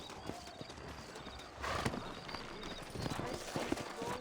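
Horse hooves clip-clop steadily at a walking pace in the video game Red Dead Redemption, fairly quiet and mixed with faint background ambience and occasional low voices.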